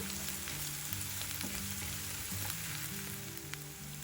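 Ginger garlic paste sizzles steadily in hot oil for a masala egg fry, a dense continuous frying hiss with faint low hum beneath and no voices.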